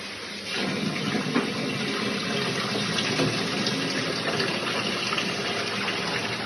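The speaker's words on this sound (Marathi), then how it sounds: "आता ही भाजी मी स्वच्छ धुवून घेणार आहे" A tap gushes steadily and loudly into a vessel while ambadi greens are rinsed in a kitchen, the water starting after a short moment and then running continuously, nearby and with no talk.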